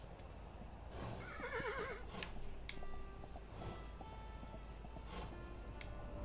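A horse in Kingdom Classic gives a clear, wavering whinny, with clip-clop hooves and later sharp game tones over a steady bed of insect-like ambience.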